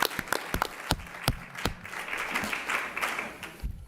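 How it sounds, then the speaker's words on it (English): Scattered hand clapping from a small group at a school district board meeting, uneven and fairly close, with a few sharp individual claps standing out before it thins and stops. "We'll give you another round of applause."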